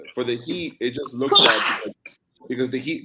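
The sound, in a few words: sneeze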